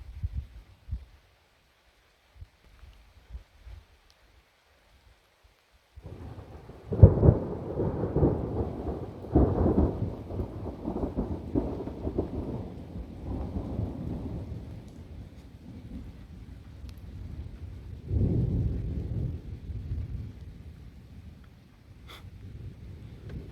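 A cloud-to-ground lightning strike during a thunderstorm with rain sets off a deep, loud rumbling roll of thunder that swells, fades and surges again for many seconds after a quiet start with a few faint drops.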